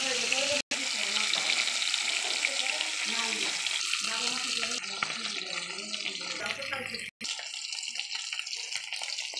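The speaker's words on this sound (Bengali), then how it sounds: "তেল গরম হয়ে গেছে, এবার আমি মাছগুলো ছেড়ে দেবো।" Katla fish sliding into hot oil in a kadai and frying with a steady, loud hiss and crackle that runs almost without pause, broken by two brief silent gaps.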